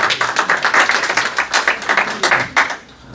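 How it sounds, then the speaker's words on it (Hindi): Audience applause for the mayor at a Bazm-e-Sukhan mushaira and awards evening in Ealing, a steady dense patter of many hands clapping close by, fading slightly toward the end. "तो एक दफ़ा इनके लिए भी ज़रा भरपूर तालियां होनी चाहिए।"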